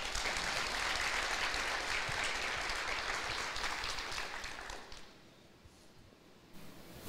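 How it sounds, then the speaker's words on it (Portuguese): A church congregation claps steadily and loudly for about five seconds, then the applause thins out and fades into quiet near the end. "Aplauda o Senhor."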